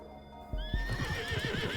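Horse hooves clip-clop at a gallop with a loud neigh and whinny over a musical score in the Love and Deepspace video game, a steady rhythmic galloping under sustained melodic tones.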